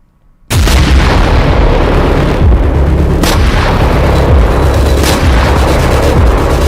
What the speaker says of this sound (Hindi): एक तरफ गाजा की सड़कें नेतन्याहू के धमाके से दहल रही हैं